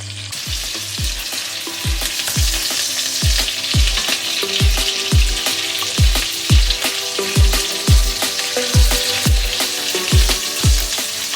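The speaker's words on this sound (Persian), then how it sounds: "من سری دوم شامی رو گذاشتم دقیقا با همون روغنی که سری اول سرخ کرده بودم." Shami kebab patties, a second batch laid into the oil already used for the first, fry in a pan with a loud, steady sizzle and regular crackling pops, with no talk.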